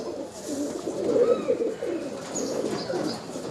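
A pair of giribaz pigeons coo close by at a pigeon market, soft rolling calls rising and falling over a few seconds with faint market bustle behind.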